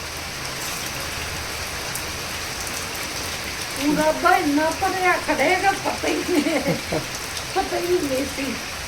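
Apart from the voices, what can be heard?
rain falling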